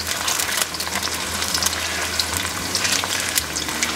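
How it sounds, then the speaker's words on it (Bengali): Onions fry in a pan for chicken dopiaza, giving a steady, dense sizzle with a continuous crackling hiss and no talking. "পেঁয়াজটা ভাজা হোক"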